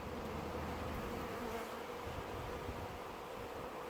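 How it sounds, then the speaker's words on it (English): A constant, dense buzzing of many honey bees close by at an open hive, steady and fairly quiet with no voices. "Have bees crawling on my hands."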